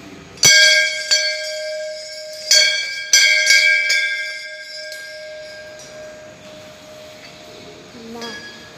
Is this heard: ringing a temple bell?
yes